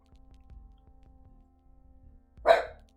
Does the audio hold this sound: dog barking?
yes